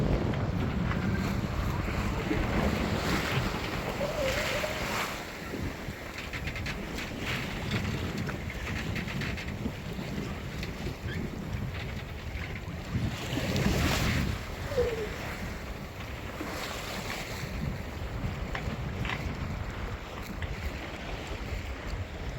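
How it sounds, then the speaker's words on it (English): Waves roll past a sailboat on Chesapeake Bay, a steady broad wash of water and wind noise that continues without a break, with faint voices now and then. "The waves are still rolling through pretty well."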